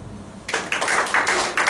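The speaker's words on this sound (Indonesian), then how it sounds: "Tepuk tangan." A church congregation claps hands together, a broad burst of applause starting partway in after near quiet, with a few pulsing swells of clapping.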